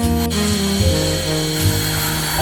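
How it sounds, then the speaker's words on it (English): A boring bar enlarges a hole in a workpiece by 1 mm on a machine tool in a workshop, giving a loud, steady metallic whine with shifting tonal pitches and no talk. "The process of boring is executed to make the hole in the workpiece bigger by the increment of 1 mm."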